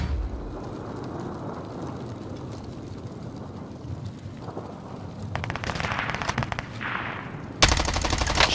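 Gunfire in the video game Warzone on the Caldera map: a low ambient rumble gives way to rapid automatic bursts, with a louder, closer burst at the very end.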